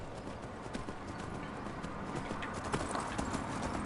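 Horse hooves clip-clop steadily and closely on a road in the Skyrim video game, a continuous even rhythm of hoofbeats heard alone throughout.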